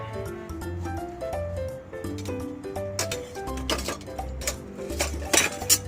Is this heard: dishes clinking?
yes